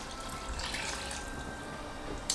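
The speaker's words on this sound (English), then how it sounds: "you're gonna go in with 2 cups of beef broth." Beef broth poured into a pot of braised beef short ribs, a steady close liquid stream splashing and trickling continuously, with a brief clatter at the end.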